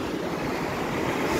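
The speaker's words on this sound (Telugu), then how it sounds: "ఇది చూడండి అలకనంద ఎంత స్పీడ్గా పోతుంది." The Alaknanda river at Badrinath rushes fast in a steady, broad roar of flowing water that stays loud and continuous throughout, with a little wind mixed in and no talking.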